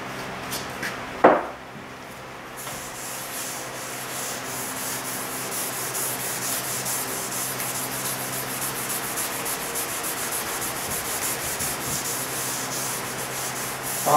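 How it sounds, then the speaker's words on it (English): Danish oil is rubbed by hand into redwood table boards made from old wood, a steady close-up swishing rub after a brief knock at the start. "I'm going to put a Danish oil on this for a finish."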